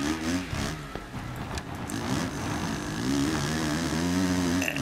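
A motocross bike engine in the racing game MXGP3, heard from the handlebar view, drones and revs with a rough buzzing tone, rising and falling as gears change, steady and fairly close without talk.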